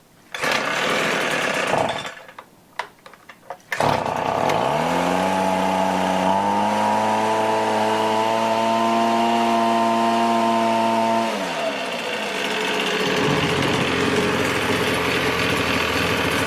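A Toro leaf blower engine that had trouble starting runs on half choke, first a loud rough roar, then a brief sputter and stop, then a restart that settles into a steady droning tone that drifts in pitch before dropping back to a coarse roar.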